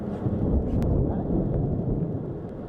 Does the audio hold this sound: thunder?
yes